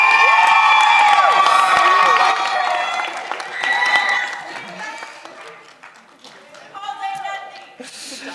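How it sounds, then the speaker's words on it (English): Audience applause and cheering at a graduation ceremony, a loud crowd clapping with whoops that swells at the start and then tapers, mixed with background voices. "Can we get another round of applause for our staff and our graduates?"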